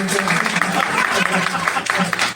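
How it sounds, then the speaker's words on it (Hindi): Audience clapping in an auditorium at a Hindi book launch and award ceremony, a loud, uneven burst of many hands mixed with a voice talking over it. "अरे ताली बजाने चले थे तो बजाई"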